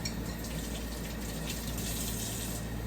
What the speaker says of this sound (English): So now I'm just gonna add a glass water